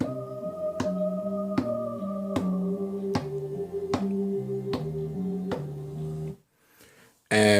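A synthesized bass line played on a Maschine groove production setup repeats its notes in pairs under a regular sharp percussive snap on each beat. The pattern runs steadily for several seconds, then cuts to near silence before a final hit.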